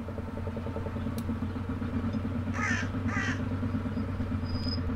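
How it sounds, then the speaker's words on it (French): Crows caw twice in quick succession, fairly close, over the steady low thumping idle of a small Royal Enfield single-cylinder motorcycle in an abandoned hamlet in a Charente valley. "Seul le chant du petit monocylindre et les craillements des corneilles semblent troubler"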